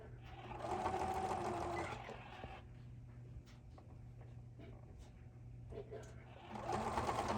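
Sewing machine stitching around the corner of a cosmetic travel bag, a steady close motor whir that runs loud, eases to a slower stretch in the middle, then speeds up again.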